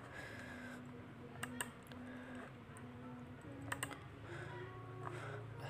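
Keys clicked on a computer keyboard while a value is entered, a few sparse, quiet taps spread over several seconds against a steady low background hum.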